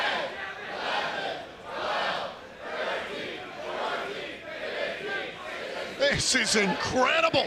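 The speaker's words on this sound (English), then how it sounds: "You hear the crowd here." A pro wrestling crowd at an IMPACT Wrestling event roars steadily beneath an excited commentator as Jordynne Grace holds a long stalling suplex, with the noise swelling louder near the end.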